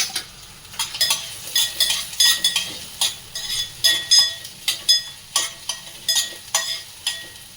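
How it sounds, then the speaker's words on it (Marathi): Onion and green chili tempering in hot oil, stirred in the pan with a metal spoon: repeated, rhythmic clinks and scrapes of the utensil against the pan, close and fairly quiet, over a faint sizzle. "कांदा आणि मिरचीची फोडणी देते."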